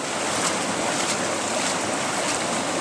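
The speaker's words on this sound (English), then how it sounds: "Give it a good rinse." Water rushes steadily over a plastic tray from a 3-foot River Bed Hog unit as it is rinsed out, a continuous broadband splashing wash that stays even and loud from start to finish with no pauses.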